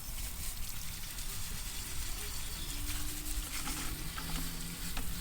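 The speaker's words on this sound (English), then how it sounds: "So we're just going to hose that down." A garden hose on a shower setting sprays water over a bicycle, a steady close hiss and splatter that runs unbroken throughout.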